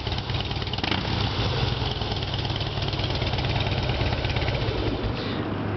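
A 2007 Harley-Davidson Heritage Softail Classic with its factory exhaust idles steadily, giving a close, even, low engine chug that carries on throughout without anyone speaking.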